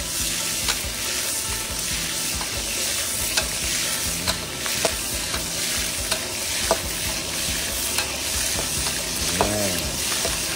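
Pork fries in a pan with a dense, continuous crackling sizzle close up, broken by regular light knocks and scrapes of a utensil, no talking.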